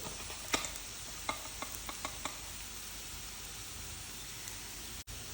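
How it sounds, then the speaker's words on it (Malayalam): A spice masala mixture with turmeric, garam masala and chili powder for an egg roll filling is stirred in a pan, giving a handful of soft scraping taps in the first half, then a quiet low hiss. "ഇതിലേക്ക് ആവശ്യത്തിനുള്ള ഉപ്പും കൂടെ ചേർത്ത് കൊടുത്തിട്ട് നന്നായിട്ട് തന്നെ മിക്സാക്കി കൊടുക്കാം"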